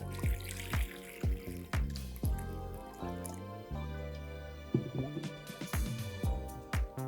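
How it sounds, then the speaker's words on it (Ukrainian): Hot water pours and splashes into a container over a dissolvable cleaning capsule in short bursts, with drips and trickles between pours, close by and fairly quiet. "І заливаємо усе це гарячою водою."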